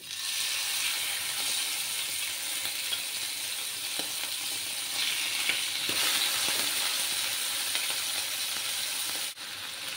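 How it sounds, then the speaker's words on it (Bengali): Tangra fish frying in hot oil in a pan give a steady, dense sizzle and crackle that runs unbroken throughout, loud and close, with faint stirring clicks and no speech. "তেলটা গরম হয়ে গেছে, এবার আমি মাছগুলো ভেজে নিচ্ছি।"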